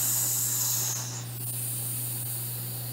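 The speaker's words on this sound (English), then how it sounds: "So now we can take off the regulator" Steam hisses out of a pressure canner used for potatoes once its regulator is lifted off, a loud close rush that fades a little partway through and then carries on steadily.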